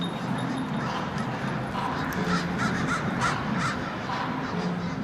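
Crows caw repeatedly outdoors at dusk in Portland, a string of harsh calls at moderate distance over a steady murmur of background noise and faint voices.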